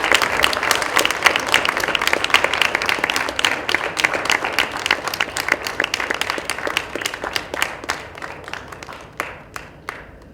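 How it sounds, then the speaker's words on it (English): Applause rings out from the crowd at a championship awards ceremony in India, dense and loud at first, then thinning to scattered individual claps as it fades. "please, a huge round of applause from the Delhi team for Anju's effort"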